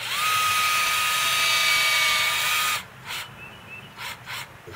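A power drill bores into a tree trunk at a 45-degree angle, a loud high whine held steady for nearly three seconds, then cutting off into a few short, quieter bursts.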